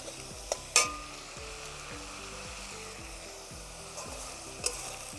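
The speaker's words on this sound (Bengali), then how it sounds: "পেঁয়াজ বাটাটাকে একটু লাল লাল করে ভেজে নিতে হবে।" Onion paste sizzles softly in a pan while a spatula scrapes and stirs in a steady rhythm, with a few sharp clinks of utensil on metal, close by and with no voice.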